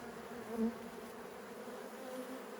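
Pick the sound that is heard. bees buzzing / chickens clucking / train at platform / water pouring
bees buzzing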